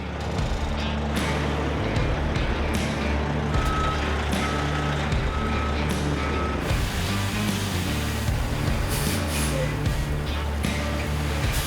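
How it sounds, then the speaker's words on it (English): A truck hauling a full load of Type 2 dirt into a Las Vegas backyard pool site, its engine rumbling loudly and steadily while a reversing beeper repeats in a regular rhythm. "We're bringing it in now with the truck."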